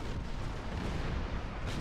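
Torpedo salvo explosions in a video game roll together into a continuous loud, dense rumble of blasts and booms that lasts the whole clip. No voices can be heard.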